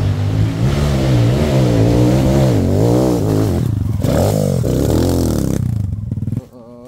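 A motorcycle fitted with a 428 chain and 57x13 sprocket accelerates hard in second gear, its loud, close engine note rising and wavering steadily before cutting off abruptly near the end.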